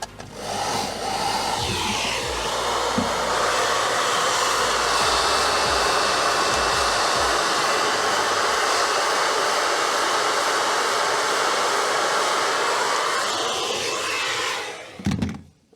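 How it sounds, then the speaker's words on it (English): A hair dryer blows continuously with a loud, steady whooshing roar close to the listener, then cuts off abruptly at the end. "she stole her own hair dryer back"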